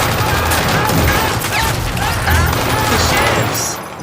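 Gunfire at a private firing range in a TV show, heard as dense, loud, sustained shooting that fills the whole stretch, with some voices underneath.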